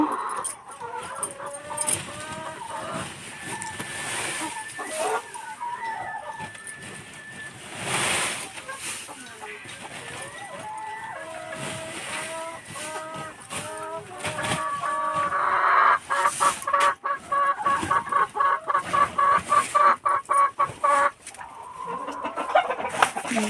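Chickens on a free-range poultry farm cluck and chatter in a busy flock, with repeated rapid clucks growing louder toward the end. Someone talks over them at times.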